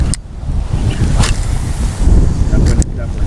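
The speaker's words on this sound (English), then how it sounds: "That wind is definitely picked up." Strong wind buffets the microphone on a lake during a fishing trip, a loud continuous rumble with gusts, and lapping water beneath it.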